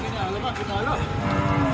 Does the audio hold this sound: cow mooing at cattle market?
yes